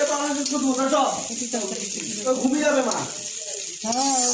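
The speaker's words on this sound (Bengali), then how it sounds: "এই চাউমিন দিয়ে দিল ভাজার জন্য" Chow mein noodles frying in a pan for a homemade dish, a steady sizzle running throughout beneath continuous talking close by.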